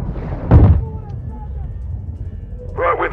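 A grenade explodes in Call of Duty: Modern Warfare 2, a single heavy, booming blast close by, followed by low rumbling battle ambience and a voice talking briefly at the end.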